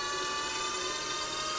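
Power steering pump on a BMW E31 840Ci electric conversion building hydraulic pressure, a steady high-pitched whirring whine that holds constant and close throughout, with no voices.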